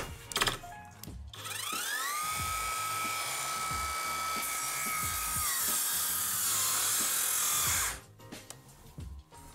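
A cordless circular saw made in China bites through thick old window timber, a loud sustained whine that drops in pitch under load for several seconds, with brief clatter before and after.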